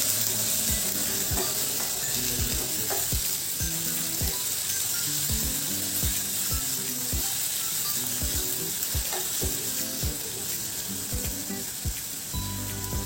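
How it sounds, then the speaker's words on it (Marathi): One large, finely chopped tomato sautés in a hot pan, giving a constant loud sizzle under repeated sharp scrapes and taps of a stirring spoon, close by. "एक मोठा टोमॅटो बारीक चिरून घेतलेला आहे. तो टाकते. तो देखील आपण छान परतून घेणार आहोत."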